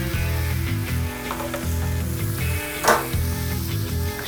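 Adobo chicken breast and mushrooms sear and caramelize in a pan for chilaquiles, a steady close sizzle with a few scraping stirs under background music.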